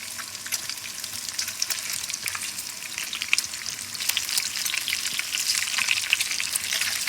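Frozen bacon fries in a pan with a dense, steady crackle and sizzle, bright spitting pops scattered throughout and growing slightly louder toward the end, with no talking.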